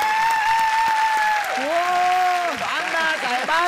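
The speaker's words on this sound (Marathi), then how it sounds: "अण्णासाहेब टरमळे यांच्यासाठी एकदा जोरदार टाळ्या झालेला आहे" Loud audience applause for Annasaheb Termale at a Marathi comedy stage show, a steady roar of clapping overlaid by a strong gliding musical tone.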